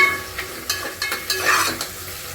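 Tomatoes stir-fried in a pan for vegetable pulao make quick scraping strokes of a spatula over a light sizzle, close and fairly loud, several brisk stirs in a short burst without talking.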